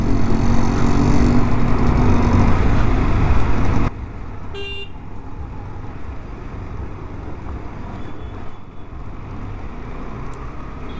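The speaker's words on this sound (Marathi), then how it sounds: "दुपारी 3 वाजता सुद्धा ही एवढी ट्रॅफिक आहे इथे." Traffic on the Mumbai Goa highway at Sangmeshwar: vehicles rush past with a loud, windy roar that drops after a few seconds to a steadier, lighter road wash, with a brief horn toot.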